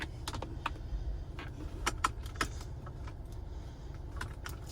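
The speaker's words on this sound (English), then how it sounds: "Plug it in. All right, USB cable's in." A USB-C cable plugs into the center-console port of a Kia Stinger, giving a few sharp plastic clicks and rattles over a low, steady cabin rumble.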